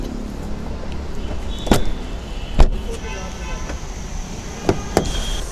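A used car's wireless remote central locking is cycled between lock and unlock, giving a few sharp mechanical clunks spaced through the stretch over a steady low background rumble.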